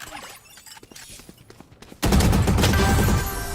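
Rapid gunfire from a weapon in Valorant bursts in loudly and holds dense and close for about a second and a half, after a quieter stretch of scattered game clicks.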